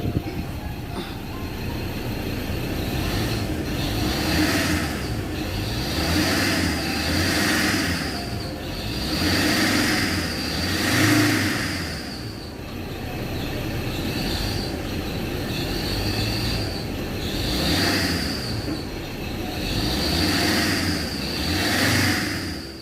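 A Ford Ranger Wildtrak engine revs repeatedly while a faulty serpentine belt gives a grinding squeal, loud and close, rising and falling in regular surges with a whining tone layered over the engine drone.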